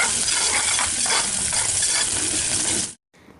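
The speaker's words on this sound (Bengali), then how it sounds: "তেলের মধ্যে আমি দিয়ে দিয়েছি পেঁয়াজ আর এলাচি, দারচিনি, আর কিছুই দিব না। তারপর আমি এটাকে সুন্দর করে ভেজে নেব।" Onion, cardamom and cinnamon fry in hot oil with a loud, steady sizzle close by, with no talk over it, then cut off abruptly before a brief quieter tail.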